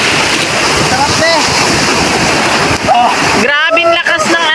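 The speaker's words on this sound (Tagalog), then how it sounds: "Grabing lakas ng alon. Ang laki ng alon." Strong ocean waves break and wash onto a beach during a family beach day, a loud continuous surf roar with wind buffeting the microphone, and voices shout near the end.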